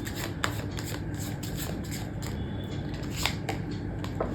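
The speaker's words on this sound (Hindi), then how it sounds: "एक कार्ड और निकालते हैं।" Tarot cards being shuffled and drawn from a deck, a steady close papery riffle with several sharper snaps and flicks standing out, with no talking.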